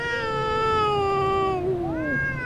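A cat screech sound effect, one long, loud, strained yowl that holds steady and then bends upward in pitch near the end, close and alone over a faint low background hum.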